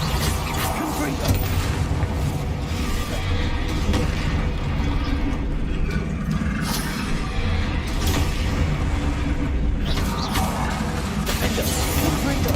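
Repeated Confringo blasting spell explosions in Hogwarts Legacy amid a dense, constant roar of booms, crashes and combat noise, with a voice speaking over the din throughout.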